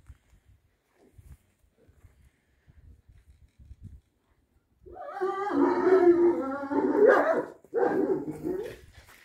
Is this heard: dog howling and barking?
yes